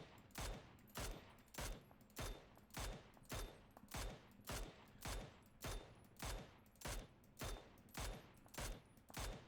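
Rapid, steady bursts of gunfire from the battle royale game PUBG during aim practice, about a dozen evenly spaced volleys loud and close with no talking.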